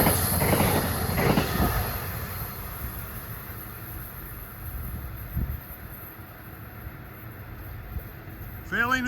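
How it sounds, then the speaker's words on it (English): Amtrak 290, the Ethan Allen Express passenger train from Burlington, Vermont, rumbles past at Ardsley-on-Hudson with rolling wheel noise and clicks. A brief wheel squeal comes at the end, and faint talk sits under the passing train. "Here comes Amtrak 290, the Ethan Allen Express from Burlington,"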